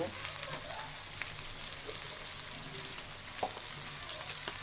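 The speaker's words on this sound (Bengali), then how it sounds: "পেঁয়াজগুলো খুব সুন্দর করে ভেজে নেব" Onions frying in oil in a home kitchen while a pangas fish and potato dish is being made; a steady, moderately loud sizzle with small crackles and a few stirring knocks.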